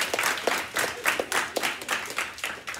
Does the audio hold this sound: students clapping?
yes